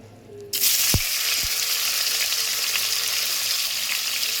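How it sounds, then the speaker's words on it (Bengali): Paneer drops into hot oil and bursts into a loud, close sizzle after a moment of quiet, with a couple of soft knocks, then a sustained frying hiss continues steadily without speech. "এবার আমি পনিরটা হালকা ভেজে নেব"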